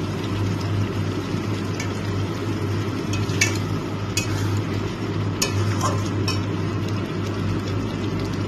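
Chicken pieces frying in a pan for a yogurt chicken with capsicum and potato dish, a dense continuous sizzle with occasional clinks of a spoon against the pan.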